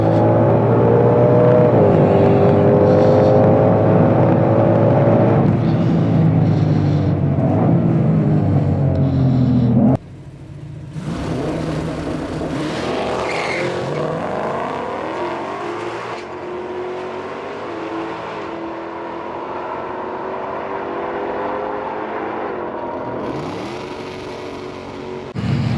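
2021 Ford Mustang GT500 launching in drag strip mode, the supercharged V8 revving high with a rising, sweeping engine note before a sudden drop, then further shifting and wavering revs, loud and close, no voices.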